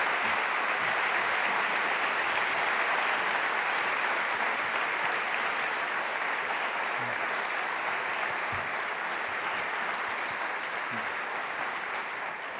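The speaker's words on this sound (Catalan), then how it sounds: "el professor Ramon López de Màntares, a qui rebem amb un merescut aplaudiment" Sustained applause from an audience at an AI and big data congress, steady and full throughout, tapering off slightly at the end.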